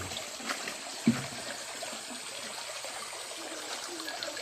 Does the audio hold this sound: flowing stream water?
yes